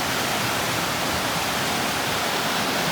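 A flooded stream rushes past near rice fields in the monsoon, producing a steady, loud, broadband roar of water that continues unchanged without pause.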